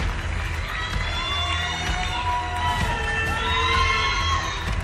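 Crowd cheering and shouting at a televised French running competition, steady and fairly loud throughout, with high whistles and excited calls over a continuous roar and no clear speech.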